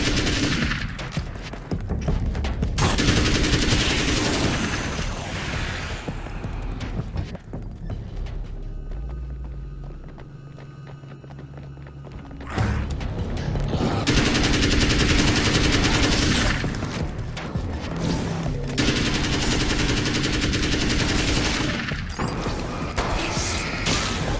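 An assault rifle fires in Alan Wake's American Nightmare as repeated loud automatic bursts with a clattering rhythm. The fire pauses briefly in the middle and resumes for long sustained volleys over a busy game soundscape.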